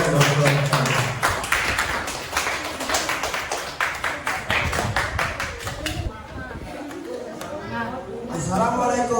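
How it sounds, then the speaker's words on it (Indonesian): Classmates clap in a classroom as a student group steps up to present its assignment, a dense patter of hands for about six seconds before a speaker begins talking over the fading room. "Beri tepuk tangan yang mulia."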